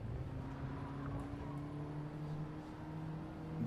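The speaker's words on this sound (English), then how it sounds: "you can still hear the engine a little bit" Hybrid race car engine in Gran Turismo 7 at Interlagos, a low, steady droning hum with sustained tonal lines, fairly faint and even throughout, with no talk.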